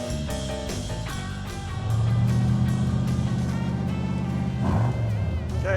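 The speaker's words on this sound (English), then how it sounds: "I guess we'll just pull over and let it idle and see how it heats up." A rat rod car's engine idles steadily after pulling over, a continuous low rumble that grows fuller and louder about two seconds in, with faint voices in the background.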